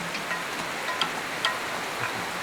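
Heavy monsoon rain pours down in Bombay, a constant hiss of water with a few louder drops and splashes standing out against the steady wash.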